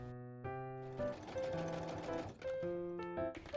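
A sewing machine stitches a raglan sleeve to a blouse front panel, its motor whirring in short runs that rise and fall in pitch with brief pauses between, close and fairly quiet.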